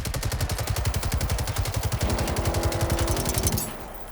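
Rapid, loud machine-gun bursts from a robot enemy in a video game, an evenly spaced stream of sharp shots that stops abruptly after about three and a half seconds, with no talking.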